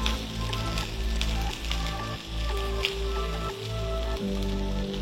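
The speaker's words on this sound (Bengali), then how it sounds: "এবার পটলের সাথে পেঁয়াজটাকে ফ্রাই করব।" Chopped onion fries with pointed gourd (potol) in a pan, giving a soft, steady sizzle with occasional crackles and a low background hum, close and moderately quiet.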